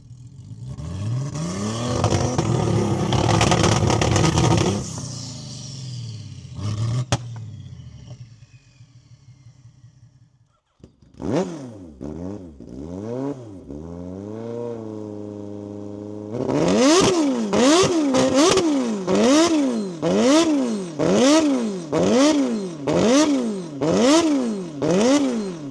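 A heavily built performance engine, either a 500 bhp Suzuki Busa or a 1400 bhp BMW M240i, roars loudly, drops to a lighter idle, climbs through rising revs, then blips hard in a rapid series of rhythmic rev pulses.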